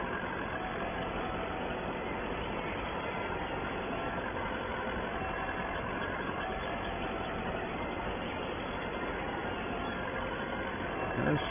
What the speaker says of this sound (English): This tractor certainly getting some work